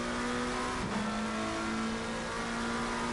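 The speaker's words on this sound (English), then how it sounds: "He wants to get past this Ferrari, and Steve Hall runs a little bit wide." GT3 race car engines from the Assetto Corsa Competizione racing game hold a steady high drone at the Red Bull Ring, with a short pitch dip as one car shifts, loud and continuous without commentary.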